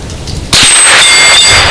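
A scoped Ruger 10/22 Model 32003 rifle shot rings out as a single sharp metallic clang off a steel biathlon target, loud and close, its ring decaying over a second.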